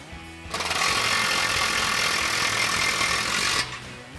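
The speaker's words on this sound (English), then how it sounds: "So now we're going to go ahead and snug this down with our 19 millimeter wrench and our 18 millimeter socket and extension on our" An impact wrench with an 18 mm socket and extension runs a lock nut down on a 2021-2023 Ford F-150 heavy-duty front bumper, one continuous loud rattling burst of about three seconds with no talk.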